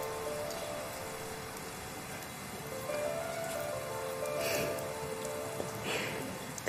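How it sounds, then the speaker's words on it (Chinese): Steady rain pours down at night, drumming on surfaces in a continuous dense patter with a few louder drips near the end; no voices. "我觉得在这么一个下雨的晚上"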